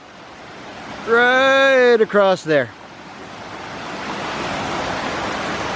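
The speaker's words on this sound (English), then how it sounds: "very nice set of waterfalls right here" A set of waterfalls beside the Appalachian Trail gives off a steady, broad rushing roar that swells through the clip, with a short spoken phrase near the start.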